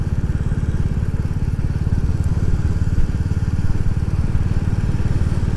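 A Royal Enfield Classic 350 single-cylinder engine thumps steadily at a loud, even idle up close, its rapid regular beat unbroken throughout.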